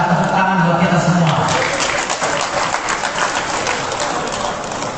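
A crowd of voters at an Indonesian football association (PSSI) election event breaks into applause, a dense crackle of many hands. A loud voice over a sound system talks during the first part, then the clapping carries on alone.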